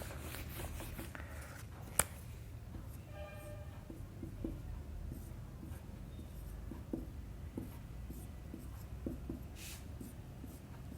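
A math question on factorials is written on a board in a quiet room, with soft scratchy strokes and taps that come and go close by, and no talking.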